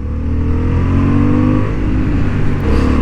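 A Honda Hornet 750 motorcycle accelerates hard in third gear on a racing track, its engine droning loud and steady with a rising, continuous roar throughout.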